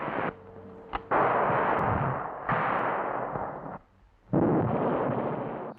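Hand grenades go off at a wire obstacle in a series of heavy, muffled bursts, each blast followed by a broad rumbling wash, with short gaps between detonations and no voices.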